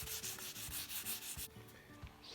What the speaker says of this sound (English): We'll flatten everything out by block sanding it with 1200 grit sandpaper.